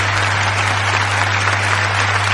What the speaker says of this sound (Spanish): Dele un aplauso al Señor esta mañana.